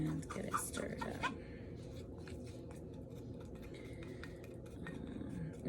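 A spoon stirs and scrapes a clay and apple cider vinegar face mask paste in a bowl, with soft clicks and scraping strokes, a voice talking over the first second.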